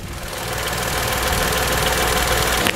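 A 2020 Tata Nexon XM S engine running with a steady mechanical drone and slight rising hum, close and continuous with no talk.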